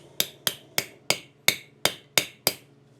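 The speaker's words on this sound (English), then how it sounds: "Hammer it on." Eight sharp metallic hammer strikes drive a screw extractor into a 1972 Arctic Cat Panther 303 rotary snowmobile engine at a steady rhythm, close and crisp, each ringing briefly before the next.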